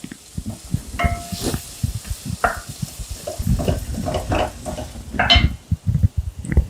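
Chopped onions sauté in a pan with steady sizzling and crackling, occasional scraping and stirring, close and continuous.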